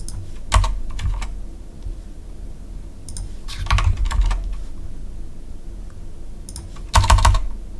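Computer keyboard typing while writing code, arriving in a few separate bursts of rapid close clicks separated by quieter stretches of room hum.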